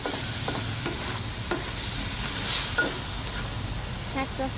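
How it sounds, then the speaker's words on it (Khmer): Pork tossed in a pan with seasoning and chicken soup powder for a Khmer sweet-and-salty stir-fry, giving a soft sizzle with repeated scraping stirs at close range, fairly quiet, with a voice talking over it. "ចាធ្វើការឆាសាច់របស់យើងនឹងឲ្យចូលជាតិគ្រឿង"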